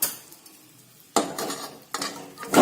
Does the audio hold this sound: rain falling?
no